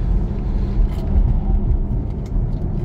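A Tesla Model 3 on a race circuit, a loud close low rumbling roar of tires and car noise that holds steady throughout without speech.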